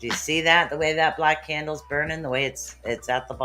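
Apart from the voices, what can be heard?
No everyday noises stand out.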